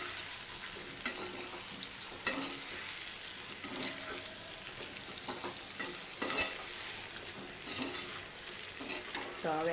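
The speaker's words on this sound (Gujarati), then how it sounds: "હવે આપણે આ મુઠિયા લઈ લઈશું વઘારમાં. બરાબર મિક્સ કરી લઈશું." Muthiya dumplings being stirred and fried in a hot sesame-seed tempering, giving a steady close sizzle broken by scraping stirs of a spoon against the pan, with no talking.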